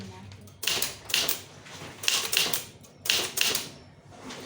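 A typewriter clacks in several rapid bursts of keystrokes, close and crisp, as an official letter is typed in Tamil. Each burst is separated by short pauses, and a voice talks faintly underneath.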